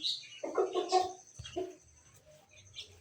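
A black rooster in a village lets out a few short, throaty clucks in quick bursts, fairly close and moderately loud, then trails off into quieter, scattered calls.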